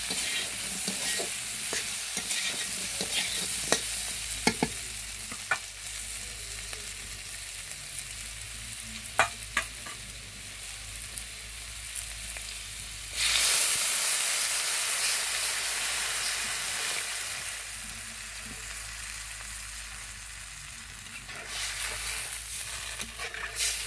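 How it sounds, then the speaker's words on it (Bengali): Curry in a pan coming to a boil after water is added, a loud steady hiss and bubbling that swells partway through, with occasional clinks from stirring. "বলক এসে পড়ছে।"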